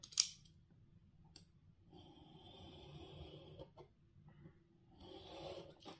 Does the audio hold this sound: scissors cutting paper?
yes